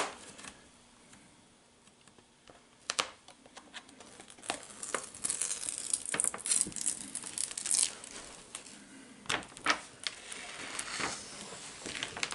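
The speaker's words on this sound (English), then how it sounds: "I'll go ahead and peel the rest of this backing off." Backing film is peeled off a control panel overlay, starting quiet, then swelling into close, irregular crinkling and crackling tears of plastic sheet with sharp snaps, no talking.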